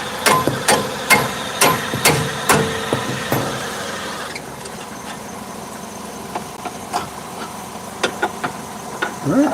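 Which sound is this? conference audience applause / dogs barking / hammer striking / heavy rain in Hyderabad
hammer striking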